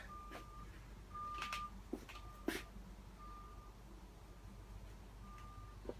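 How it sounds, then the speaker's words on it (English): A bulldozer's reversing alarm beeps at a steady, regular pace, faint and distant, over low outdoor rumble with a few sharp knocks from nearby house building. "there's a big bulldozer and it keeps reversing. And it keeps beeping."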